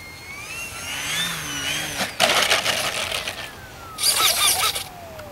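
An E-flite Eratix radio-controlled airplane in flight: a whining electric motor pitch sweeps up and down as it passes, with a couple of louder gusty bursts between, heard outdoors without speech.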